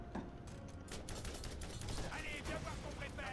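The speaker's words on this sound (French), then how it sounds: "Ah, ils ont lancé une grenade." A grenade blast and rapid gunfire in the Borderlands video game come as dense, clattering bursts of shots and mechanical noise, continuous and fairly loud throughout.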